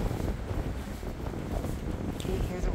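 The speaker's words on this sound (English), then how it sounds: "Can you hear the wind?" Cold wind blows outdoors on a freezing winter walk, producing a constant low roar and buffeting rumble against the microphone throughout, with no clear speech.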